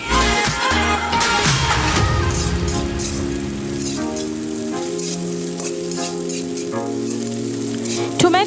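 Chopped tomato hitting hot oil with onion, chilli, ginger and garlic for Bengali egg tadka, a loud steady sizzle with stirring scrapes and clatter, a voice faintly present in the background.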